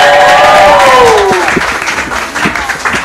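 Studio audience applause and cheering, a loud burst of clapping and crowd noise with sweeping tonal cues that settle into a steady, slightly fading ovation.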